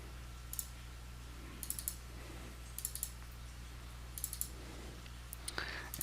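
Computer mouse clicks while working in LP-360 processing software, a handful of soft, sharp clicks spaced irregularly over a low steady hum, close and quiet, without speech.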